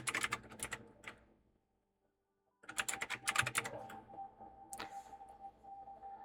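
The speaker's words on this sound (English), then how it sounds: "I know you guys can hear the clinking of my keyboard." A computer keyboard is typed on in bursts of close, crisp clicking during a live bookkeeping session, with a quiet gap of about a second before rapid keystrokes resume and continue steadily to the end.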